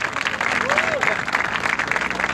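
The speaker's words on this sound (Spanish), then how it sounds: "un aplauso para el ensamble coral" Applause for a university choral ensemble at a tribute concert, with a crowd clapping loudly and steadily while faint voices sound underneath.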